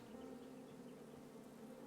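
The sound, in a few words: buzzing bees from video game King's Quest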